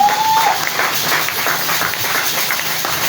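A church congregation claps and applauds in praise of the Lord Jesus, a steady dense wash of hands filling the room for a few seconds, with a brief whistle-like tone at the start.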